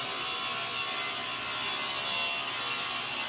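A coping saw rasps through wood in a close, steady, gritty stroke that runs unbroken for a few seconds.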